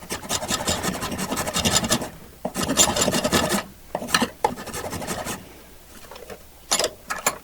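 A metal file rasps back and forth over a Gardiner Quick-Loq window-cleaning pole part in loud, close, rhythmic strokes with short breaks between runs.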